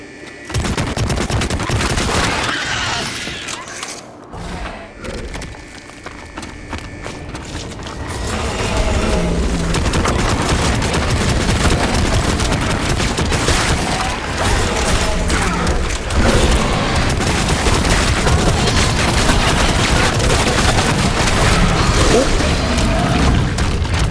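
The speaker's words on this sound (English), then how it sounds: "This sector is under plasma bombardment." Sustained gunfire and plasma bombardment from the video game Starship Troopers: Extermination, a dense, continuous roar of rapid shots and explosions that grows heavier partway through, loud and close, with game radio voices over the battle.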